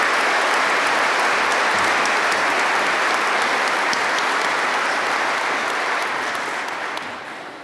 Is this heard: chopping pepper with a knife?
no